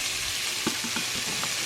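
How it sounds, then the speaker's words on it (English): Country ribs browning in a hot pan give off a steady, close sizzle, with a few soft crackles and pops scattered through it. "Oh yeah, you can hear it sizzling, man."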